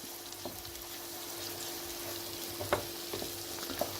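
Peeled, chopped tomatoes fry in a pan with a soft, steady sizzle, broken by a few quiet clinks and scrapes as a utensil stirs them, heard close and alone.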